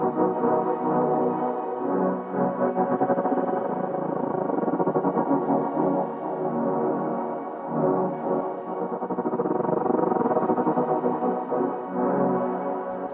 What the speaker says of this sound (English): Or you can turn sync off, which gets really great if we add maybe a little bit of reverb,